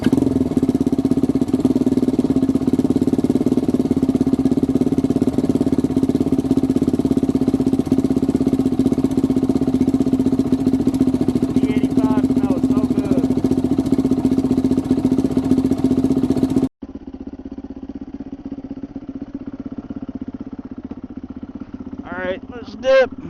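A turbocharged Yamaha YZ500F dirt bike engine runs with a steady, loud droning rumble, then drops abruptly to a quieter, rougher note near the end, with a brief rise at the close.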